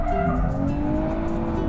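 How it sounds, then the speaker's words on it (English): A Nissan Z NISMO slides under balanced throttle, its tires squealing steadily over a continuous engine drone, loud and close throughout. "balancing that throttle gives you a beautifully predictable slide"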